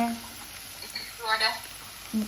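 Spices and vegetables for a jowar khichdi tempering sizzle in hot oil, including asafoetida, ginger, chillies, garlic and curry leaves. The frying is a soft, crackling hiss with a few brief spatters, fairly quiet, and a voice speaks over it.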